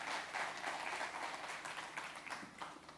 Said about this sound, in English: I think that's a big round of applause for the team there.